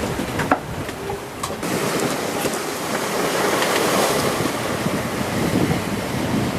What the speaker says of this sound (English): the sea continues kind of boisterous